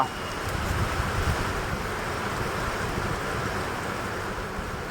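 Strong thunderstorm wind roars steadily throughout, a dense broadband rush with low buffeting rumble, close and loud, no voices.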